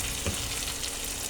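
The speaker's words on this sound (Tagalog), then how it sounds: "mag-umpisa na tayong maggisa-gisa. Ayan guys, nilagay ko ng sibuyas" Onions being sautéed in a pan, giving a steady, close sizzle that runs through the brief moment with no talk.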